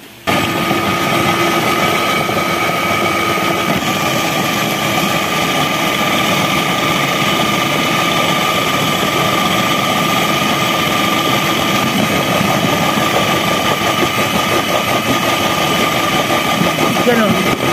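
Food processor churning hotdog meat emulsion runs with a steady, loud motor whine and grinding hum throughout, while voices talk over it close by.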